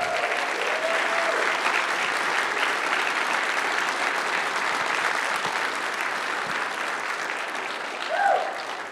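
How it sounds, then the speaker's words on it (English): A conference keynote audience applauds its volunteer team, steady dense clapping from a large crowd that holds at full strength for about eight seconds before easing slightly, with a brief faint vocal sound near the end. "can we give a round of applause for our conference volunteer team?"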